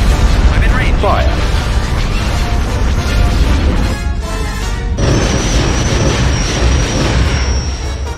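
Weapons fire and explosions roar continuously from starships battling in a Star Wars space strategy game, a dense loud rumble with bursts and a sustained whine, under talk.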